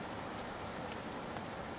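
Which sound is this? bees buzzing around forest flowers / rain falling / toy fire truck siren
rain falling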